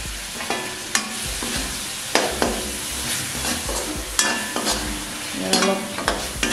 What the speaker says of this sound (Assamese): মছলাখিনি মিহলি হোৱাৰ কাৰণে লাৰি দিম।